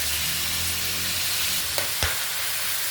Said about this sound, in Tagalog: Lagay na natin sibuyas at saka bawang. Sama-sama na.